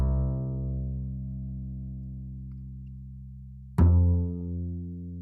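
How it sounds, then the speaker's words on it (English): An acoustic upright bass from the Trillion instrument plays chord root notes: one long, deep tone fades slowly, then a fresh plucked note lands near the end, raw and close. "I decided to go for an acoustic upright bass"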